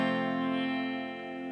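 An acoustic guitar rings out a sustained F barre chord, fretted with the thumb wrapped over the neck to press the sixth string. A single strum lets the chord ring out clearly and decay slowly.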